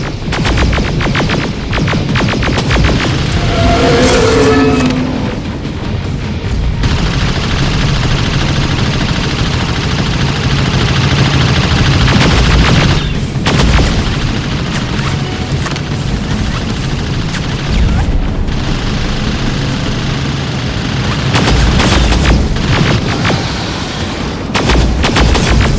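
Gunfire at a robot in Terminator: Resistance rolls on continuously, loud and booming like heavy weapons, with dense overlapping blasts and a throbbing low rumble and no clear breaks.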